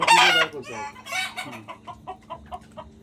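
Free-range chickens on an integrated poultry farm that keeps crested local hens, Fayoumi and broiler birds. A loud burst of clucking comes first, then a run of shorter, softer clucks and calls repeats steadily nearby, with no speech.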